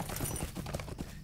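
A horse's hooves clip-clop at a quick, steady pace in Lord of the Rings Online, close and fairly loud, with a faint bit of background noise.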